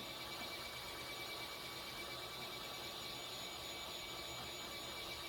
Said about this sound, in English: you can definitely use your heat tool or a hair dryer to speed up that process